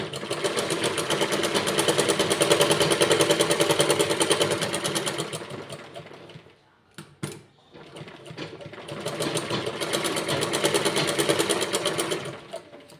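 Steady close whir of a sewing machine stitching a four-tuck blouse seam, running in two long loud stretches broken by a brief quiet gap with a few clicks.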